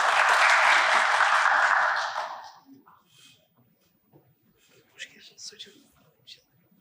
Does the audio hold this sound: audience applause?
yes